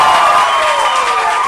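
Event audience applauding and cheering, a brief dense burst of clapping and crowd noise, loud and close.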